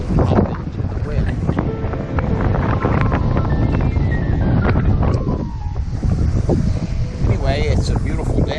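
Loud, gusty wind buffets the microphone over a rushing wash of water, with scattered creaks and rattles as a sailboat moves fast through the wind.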